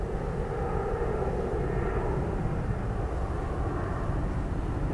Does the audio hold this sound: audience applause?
no